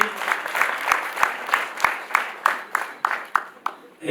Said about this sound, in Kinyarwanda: Dukoma amashyi menshi.